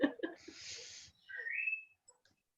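A parrot gives a breathy, rushing whistle followed by a rising pitched whistle tone, fairly faint and close, with no talk over it.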